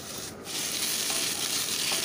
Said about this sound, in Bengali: এই সবজিগুলো দিকে একটু লাল হয়ে এসছে, নাড়াচাড়া করে নিচ্ছি